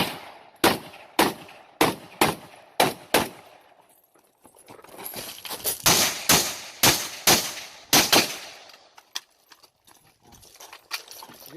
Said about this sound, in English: I'm going to shoot the farther targets first, and then the easier targets up close